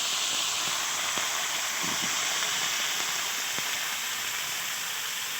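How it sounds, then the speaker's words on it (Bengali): Potatoes frying in oil released from fish give a steady close hissing sizzle throughout, even and fairly loud, with a few faint ticks underneath and no talk. "এবার ফের ওই তেলেতেই ফের আলুগুলো ভেজে নেবো"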